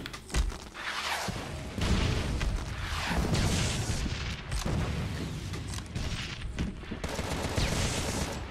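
Machine gun fire in the video game Contra: Rogue Corps, loud continuous rapid bursts mixed with booming explosions across the whole stretch, with no talking.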